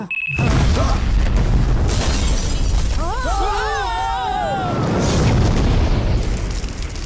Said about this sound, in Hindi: रंगाबली सेंटर में बम ब्लास्ट